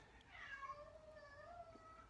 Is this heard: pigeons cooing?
no